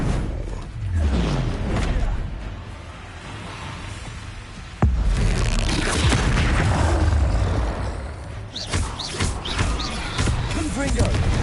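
A Repulso spell cast in the Hogwarts Legacy video game, a booming magical blast that strikes sharply near the middle and sits among continuous game effects and other spell impacts, with speech running throughout.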